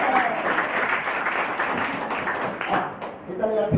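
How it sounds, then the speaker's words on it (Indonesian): Applause from a congregation at a worship service in a women's prison in Bandung, a steady, dense clapping that fills the room and holds for a few seconds, with voices mixed in. "Tepuk tangan buat Tuhan Yesus."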